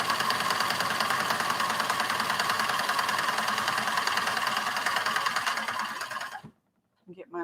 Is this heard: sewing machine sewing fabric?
yes